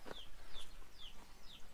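Chickens at a poultry farm raising black soldier fly larvae give a few short repeated calls at a steady pace, moderately close over a faint, noisy farm background.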